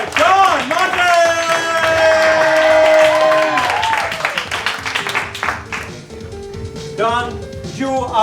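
Live audience applause for a player joining a comedy podcast game show, a broad clapping wash mixed with a loud sung or shouted voice and music stings, speech running over it throughout.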